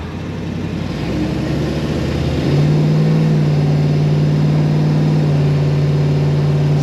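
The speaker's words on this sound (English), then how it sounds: "Those Black Widow mufflers on this car really sound good." A 1969 Dodge Charger 440 R/T restomod with Black Widow mufflers and a TorqueFlite 727 automatic, its V8 rumbling steadily up close and then rising into a louder, sustained drone as it pulls through the gears.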